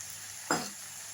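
Green chillies hitting hot oil in a pan for Bengali cabbage curry (bandhakopir chorchori), a single sudden sizzle burst that flares loudly then fades over a steady background hiss.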